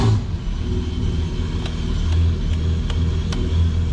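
A custom-built amphibious vintage Mercedes engine starts and settles into a low, steady, close idle rumble with a few faint clicks over it.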